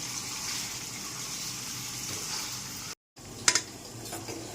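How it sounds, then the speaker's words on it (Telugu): Water pours and gushes into a hot pan of chicken cooking in oil with turmeric for gongura chicken, a steady close hiss and sizzle, broken by a brief cut and then a few sharper splashes near the end. "కొంచెం వాటర్ పోసుకోవాలి."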